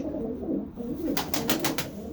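Domestic pigeons at a pigeon-keeping loft coo in a low, throaty, steady murmur close by, with a quick run of soft fluttering bursts in the middle; nobody speaks.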